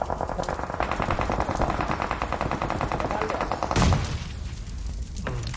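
Rapid automatic gunfire in PUBG Mobile on Erangel rattles loud and close for several seconds, followed by a heavy thump and a quieter stretch with scattered smaller shots.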